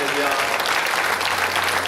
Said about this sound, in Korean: 주님께 다시 한번 영광의 박수를 드립시다